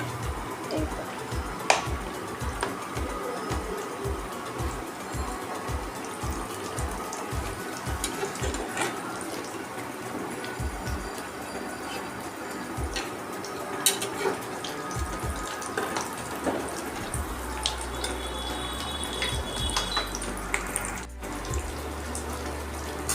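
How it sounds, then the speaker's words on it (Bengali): Banana flower chops deep-frying in hot oil, a steady close sizzle with crackling pops and a run of sharp rhythmic bubbling bursts early on, then calmer frying with occasional spatters. "একদম দোকানের মতো ভাজা হচ্ছে।"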